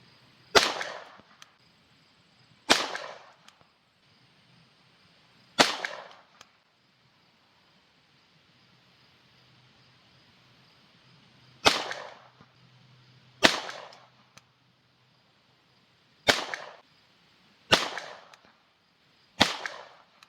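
A Ruger 10/22 rifle firing Aguila .22 LR 40 grain ammunition: eight sharp, loud cracks with short echoing tails, spaced irregularly by a few seconds of quiet outdoors.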